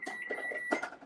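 A kitchen timer is set while biscuits bake, giving a few short electronic beeps in a quick, uneven pattern at moderate volume.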